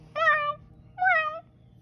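A cat meows twice, two clear tonal calls about a second apart, close and moderately loud over a faint low background hum.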